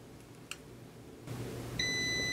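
A multimeter in continuity mode beeping while probing a circuit-board trace of a Panasonic SA-PM12 during repair: a faint click, then a sustained, clear electronic tone that starts partway through and holds to the end.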